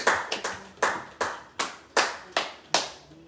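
A church congregation claps to acclaim the Lord, with about nine sharp, reverberant hand claps in a loose, uneven rhythm, each ringing briefly in the room before the next.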